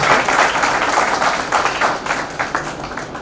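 Loud applause from a church congregation at an ordination service, dense and sustained clapping throughout.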